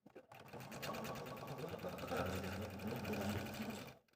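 A sewing machine runs steadily for about four seconds, stitching brown tummy pieces and a background piece of a squirrel appliqué together, with a close, even mechanical whir.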